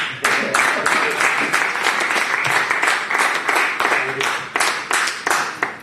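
An indoor audience claps loudly at a talk, dense overlapping hand claps forming sustained applause for several seconds at a fairly even level.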